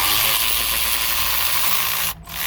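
An electric ratchet loosens an alternator bolt on a GMC Yukon, giving a loud, close, continuous buzzing whir that drops off abruptly near the end, with no voices.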